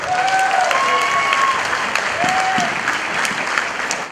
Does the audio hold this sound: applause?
yes